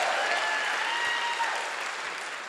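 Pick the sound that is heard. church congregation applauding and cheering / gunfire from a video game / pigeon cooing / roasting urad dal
church congregation applauding and cheering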